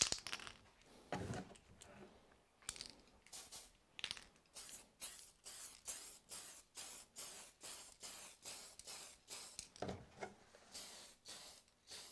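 A rattle can of spray paint coating an RC car body, with a series of short hissing bursts that come in a steady rhythm and are separated by brief pauses. The hiss is close and clear, with no talking.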